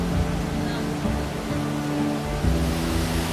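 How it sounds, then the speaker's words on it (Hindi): A roadside waterfall near Munnar, Kerala, gives a steady broadband rush of falling water, constant and fairly close, with a low hum underneath. "रास्ते में ये खूबसूरत वाटरफॉल दिखा"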